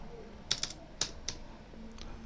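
Keys tapped on a computer keyboard, about six sharp clicks spaced unevenly over two seconds, close and fairly faint against a quiet room hum.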